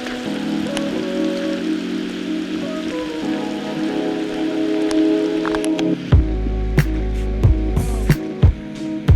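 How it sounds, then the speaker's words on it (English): Heavy rain from a sudden storm drums down at a creek, a dense steady patter with splashes that grows louder, while strong wind buffets rumble through the second half. "Just like that, it started raining."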